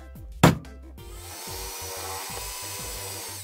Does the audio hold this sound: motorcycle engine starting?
no